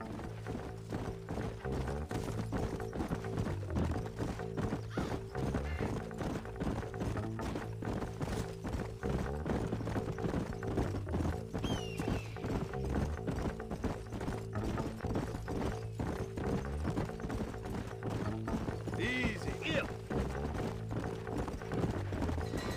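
Horses galloping in the video game Red Dead Redemption, with hooves clip-clopping in a steady rapid rhythm that runs throughout, close and loud, with an occasional whinny over background music.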